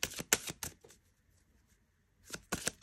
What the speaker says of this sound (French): je vais prendre des cartes de amour et psyché